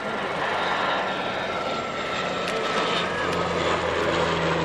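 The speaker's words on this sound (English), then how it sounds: "It's a short-haul aircraft, and it's one of the planes that can land and take off in a short enough distance" A short-haul airliner flies past at an airshow, its engines producing a continuous, loud broadband roar that holds steady throughout, with faint crowd noise underneath.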